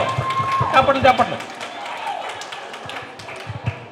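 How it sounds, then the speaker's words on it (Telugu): Audience applause at a live Telugu music event, a short burst of clapping that swells and fades, with a voice speaking over it. "చప్పట్లు"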